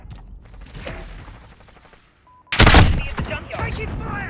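Video game gunfire breaks out suddenly after a brief lull as a loud, dense volley of rapid shots, following a stretch of quieter voices and sounds.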